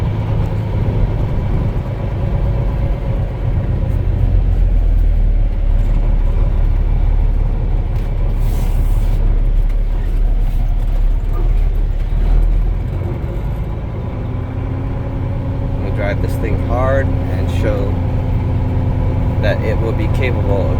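A Kenworth T800 truck cruising in fifth gear, its engine a loud, steady low rumble throughout, with a voice talking over it.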